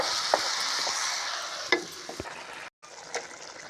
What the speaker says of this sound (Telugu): ఇలా తిప్పుకుండి 2 నిమిషాలు పెట్టేసుకుని వచ్చుకుంటాను.